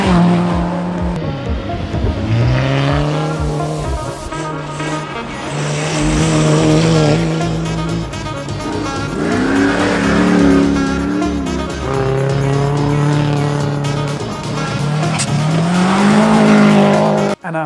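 Rally cars racing on a gravel stage sprint: engines roaring loud and close, revving up and down through gearshifts with tire scrabble, sustained throughout with brief commentary-like voice barely present.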